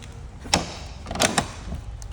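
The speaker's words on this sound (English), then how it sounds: "if you close the door," A Carbon RXC twin-turbo car door thuds shut, followed by two quick mechanical clicks of the lock engaging, fairly close and otherwise quiet.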